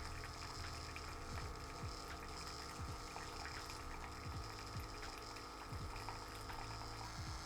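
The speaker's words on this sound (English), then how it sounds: "Now it is brewing. It has been brewed. It is currently being poured out." A K-Mini single-serve coffee maker brews, its pump humming steadily at low volume while hot coffee trickles and pours, punctuated by faint repeated clicking pulses from the machine.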